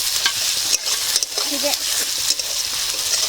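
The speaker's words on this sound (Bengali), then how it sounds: "পেঁয়াজ ভাজা হচ্ছে" Onions fry in a pan for chicken curry at a home picnic, a loud close sizzle with scraping stirs and clanks, while a voice talks briefly over it.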